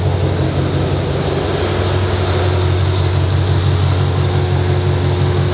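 A fully built Ford Mustang Terminator Cobra idles loudly and steadily up close, with a deep, even rumble that holds throughout.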